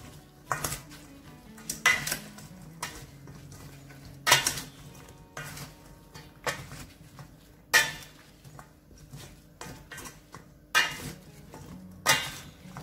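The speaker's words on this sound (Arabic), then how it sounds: "دابا غادي نخلط مزيان، نخلط المقادير كاملة" Utensil clinking and scraping against a dish while the ingredients for a potato gratin are mixed together, with repeated sharp clatters at a steady, irregular rhythm, close and moderately loud, with no talking.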